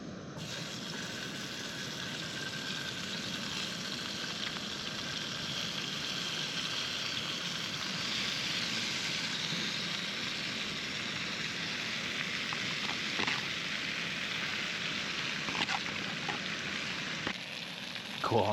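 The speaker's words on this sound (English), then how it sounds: "It's a wee stir fry number, 6 minutes in the pan." A honey chili chicken noodle stir fry sizzles steadily in a pan at a wild camp by Loch Avon in Scotland, a dense, even crackle lasting throughout with a few brief clinks near the end.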